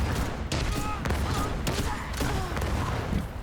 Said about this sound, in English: I'm gonna try one more time with the grenade launcher.